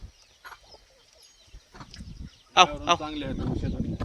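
Free-range village chickens on a rural Maharashtra farm cluck in short bursts, with a couple of louder calls, while people talk nearby.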